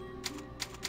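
A typewriter from the save point in the video game Resident Evil 4 clacks three times in quick succession, soft keystrokes over a low steady hum.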